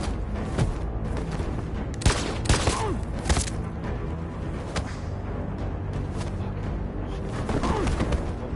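Gunshots in Detroit: Become Human sound as a few sharp booming cracks around the middle of the stretch, over a dense, steady game backdrop of music and ambience, with no talking.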